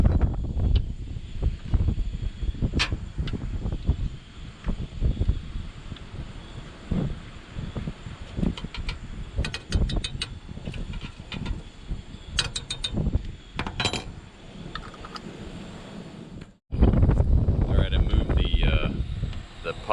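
Wind gusting at the Cape Lookout National Seashore coast beside a Toyota Tundra TRD Pro camper, a steady rough roar buffeting the microphone throughout, mixed with clanks and rattles of camp gear and a brief dropout near the end.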